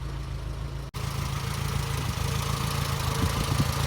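A 1970 Fiat 850 Sport Cabriolet with its rear engine uncovered idles close by, a steady, even, mid-pitched running note with no talk over it.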